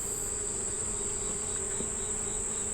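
Honey bees buzz steadily around a hive, a continuous close drone with a constant high whine running through it and no talk.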